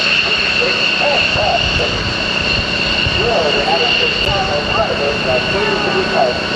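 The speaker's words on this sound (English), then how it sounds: "For Thunderbird, prepare for their takeoff roll." Thunderbird jet aircraft rolling for takeoff at the 1986 Daytona Beach airshow, a steady loud engine roar and whine held throughout while a voice talks over it.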